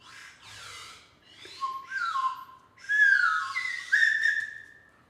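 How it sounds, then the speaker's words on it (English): A slide whistle plays a series of swooping pitch glides, starting with short bends and building to longer, louder sliding notes, heard alone and close. "that's a nice slide whistle"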